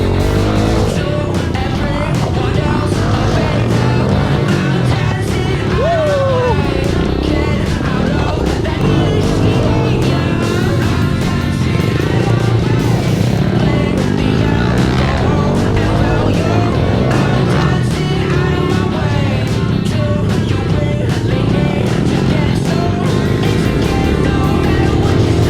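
A motorcycle engine runs loudly and continuously, revving up and down, with wheel squeals and mechanical roar throughout.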